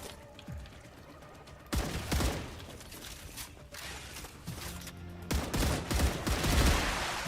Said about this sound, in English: Just run through and hip fire.